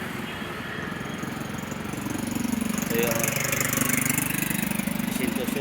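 A motorbike engine idles nearby with a steady low rumble that swells slightly halfway through, while someone speaks briefly over it.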